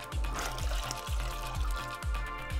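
Water is poured from a cup into a pot of chicken set on a stove, a soft, faint splashing stream with low, rhythmic glugging pulses and no talk.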